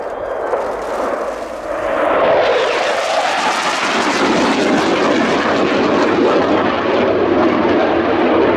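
Saab Gripen fighter jet with the Swedish 7 wing flying at the Royal International Air Tattoo 2017, a loud roaring engine rush that swells after two seconds and holds steady and close, with no talk.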